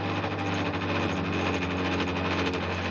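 A 12-volt DC-driven power station engine settles into idle, a steady low droning hum with fine mechanical rattle running evenly throughout, close and fairly loud with no talk.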